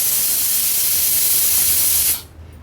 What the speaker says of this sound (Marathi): आता कुकरचं झाकण लावून ह्याला आपण 3 ते 4 शिट्ट्या काढून घेणार आहोत।